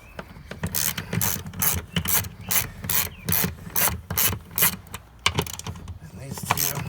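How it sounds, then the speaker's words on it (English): A ratchet clicks in repeated short bursts while loosening bolts on the fuel sending unit of a Kawasaki STX jet ski, close and crisp, with rubbing handling noise between strokes. "We're going to get these 2 bolts out here."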